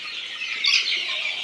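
Chickens cluck on a small poultry farm, a brief close burst of high, raspy calls.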